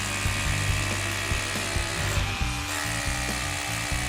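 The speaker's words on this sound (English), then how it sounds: "We're going to use the hammer drill mode." A RIDGID 18V OCTANE SDS-Plus rotary hammer drills into concrete in hammer drill mode, making a loud, continuous rapid pounding with a grinding buzz up close that briefly eases before resuming.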